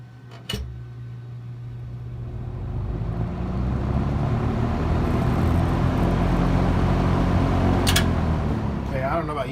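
A 1970s Vernco Model M electric fan switched to high speed, its steady motor hum and whirring blades rising after a click and holding loud and close, with a click and some handling noise near the end.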